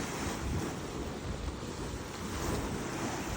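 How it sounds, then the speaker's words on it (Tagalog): Geothermal hot water bubbling and gushing at the Wairakei Terraces, a dense, continuous roaring wash of churning water with wind buffeting the microphone, steady and close throughout. "Ayan, bumubulok yung tubig. Ang lakas ng bulwak niya"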